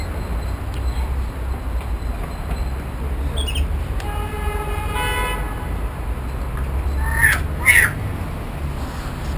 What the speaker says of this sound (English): These are tame magpies.